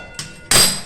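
A wok is set down on a stove with two short clunks, a lighter knock followed by a louder, ringing metallic thud, close by and with no voices.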